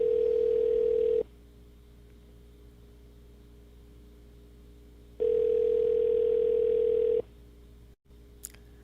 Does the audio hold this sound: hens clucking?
no